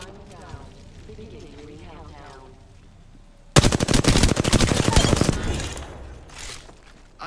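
Rapid automatic gunfire in Apex Legends, a dense loud burst of shots lasting about two seconds that cuts in after a voice speaks over quieter game sound, then tails off.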